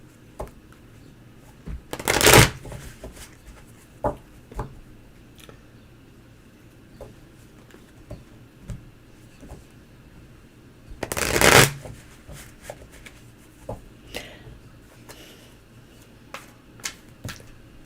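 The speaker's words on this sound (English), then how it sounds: "I want you to shuffle the deck" Two quick riffle shuffles of a card deck, crisp and close, separated by quiet handling with small taps and clicks.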